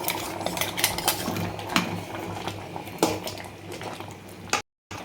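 Smashed chana masala being stirred and mixed in a pan over a low flame, with repeated close scrapes and clinks of a utensil against the metal, steady and alone with no talk.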